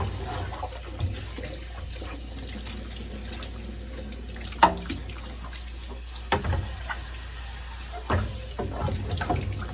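Water running and splashing as a sponge rinses clay slurry off a pottery wheel, a steady close wash with a few louder sloshes and drips into a small bucket, no voices.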